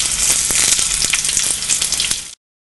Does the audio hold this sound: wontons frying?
yes